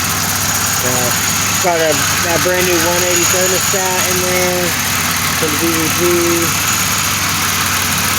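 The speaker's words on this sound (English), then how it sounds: "it's running nice and smooth. It's not misfiring at all." The engine of a 1997 Pontiac Grand Prix GTP, with a new supercharger and a rebuilt top end, idles with a steady, even hum while someone talks over it.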